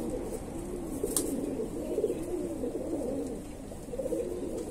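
A pair of Andhra Madrasi pigeons cooing continuously, soft throaty rolling coos repeating close by in a steady rhythm, with a faint click partway through.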